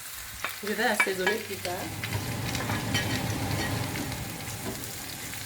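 Fresh vegetables fry in a pan for a vegetable gratin, giving a steady, close sizzle and crackle. A voice talks over the first couple of seconds, then the frying continues alone.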